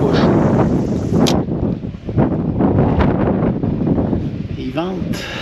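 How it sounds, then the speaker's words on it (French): Wind gusts buffet the microphone outdoors at an autumn fishing and camping spot, a rough, blustery roar rising and falling, with a voice speaking over it toward the end. "Il vente."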